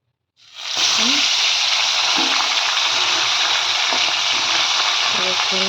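Fish rubbed with salt and turmeric is slid into hot oil and erupts into a loud, sudden sizzle that stays as a strong, steady hiss and crackle up close.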